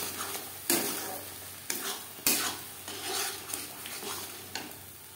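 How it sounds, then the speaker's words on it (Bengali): Masala spiced with red chili powder is sautéed and stirred in a wok for a fish curry, giving a steady close sizzle with repeated sharp scrapes of the spatula against the pan, no talking. "পাঁচ 6 মিনিট মশলা বেশ ভালো করে কষিয়ে নেওয়া হয়ে গেছে।"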